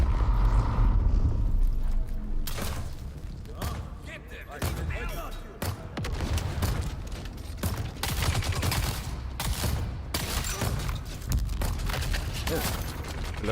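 Video game gunfire in a desert battle, rapid irregular bursts of shots and impacts over a rumbling background, with a person talking throughout.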